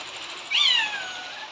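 A cat gives one short, clear meow at moderate distance, standing alone over a quiet background.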